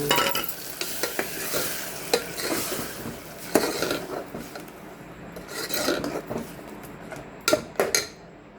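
Ground tomato cooking in a pan for a tomato chutney, a busy close sizzle with frequent scraping stirs against the pan and a few sharper knocks, no speech.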